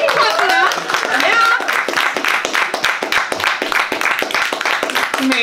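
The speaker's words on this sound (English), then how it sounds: "we can clap for that" Audience clapping during a panel discussion on intimacy work for stage and screen, a burst of hand claps with a few voices and cheers over it, loud and close, thinning slightly toward the end.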